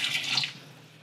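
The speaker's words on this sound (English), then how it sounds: "Little rinse on this guy." A kokanee fillet is rinsed under a running kitchen tap, the water hissing steadily for about half a second and then quickly trailing off.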